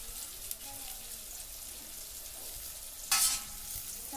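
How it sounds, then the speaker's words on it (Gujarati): Coriander and tomatoes frying in hot oil for Maggi noodles in a home kitchen, a faint steady sizzle with a louder burst of crackling near the end as the pan is stirred. "ધાણા ટમેટા ને બધું નાખી દીધું તેલમાં."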